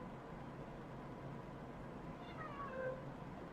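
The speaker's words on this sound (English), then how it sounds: "It really is a cat." A cat meows once in Genshin Impact, a short rising-and-falling cry that comes in near the end over a steady wash of ambient background noise.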